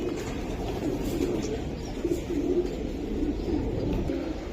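Racer pigeons coo in a soft, continuous, low murmur close by, with a few repeated throaty calls rising now and then and no talk.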